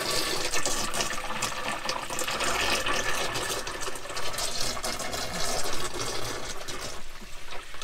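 Water pours steadily from a watering can into a motorhome waste tank, a continuous gushing, filling sound at moderate level with no speech.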